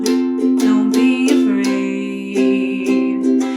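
Guitar strummed in a down, down, down, up pattern, bright, full chords ringing close and loud in a steady rhythm, with no talking.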